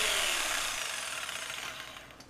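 Coping saw with a Lennox bimetal blade cutting crown molding, a bright, steady rasping stroke that fades slightly toward the end, close and alone.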